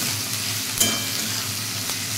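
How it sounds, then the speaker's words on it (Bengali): Onion, ginger and garlic sizzle steadily in a pan for a Bengali-style egg curry, a close, continuous crackling fry with a brief stir partway through. "আদা আর রসুন, এই 3টেকে ফার্স্টে আমি একটু ভাজা ভাজা করে নেব।"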